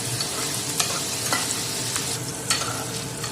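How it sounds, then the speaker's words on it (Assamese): Paneer frying in hot oil in a wok makes a constant close sizzle, broken by a few sharp scraping clicks of stirring. "মই ভাবিলোঁ পনীৰখিনি অকণমান ভাজি লওঁ"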